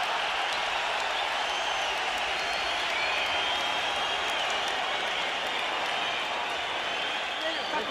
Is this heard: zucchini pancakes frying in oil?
no